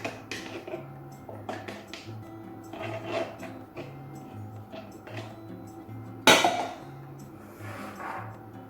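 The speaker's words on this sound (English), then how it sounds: "And then your sour cream goes in, and the soup. And we're going to mix that thoroughly." Sour cream and soup are stirred together in a mixing bowl for a creamy chicken pasta sauce, making quiet, scattered clinks and taps of utensil on bowl, with one sharper knock near the end.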